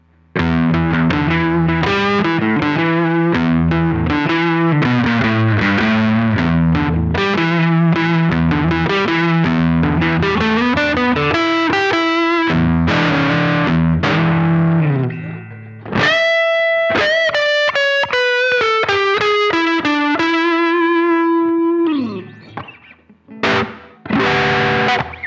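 Electric guitar played through a Plumes overdrive pedal set to mode 2 with all controls at noon, giving a tube-screamer-style drive: a long stretch of thick, sustained distorted chords, then brighter ringing single notes and a few final stabs, loud and without talk.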